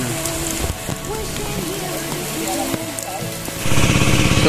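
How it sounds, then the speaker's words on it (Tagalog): Heavy rain pours onto a rice field during planting, a dense, steady hiss with distant voices and a motor beneath, swelling louder near the end. "Yan o, ang lakas ng ulan."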